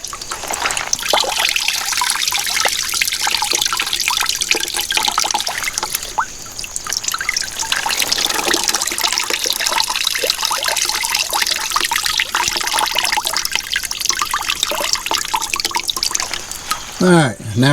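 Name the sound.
water squeezed out of wet plant material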